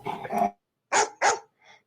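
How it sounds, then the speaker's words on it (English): Two dogs indoors give a few short, loud vocal bursts, a rough sound low in the throat followed by two sharp barks and a fainter yip, with brief silences between them. "Oh, did he growl?"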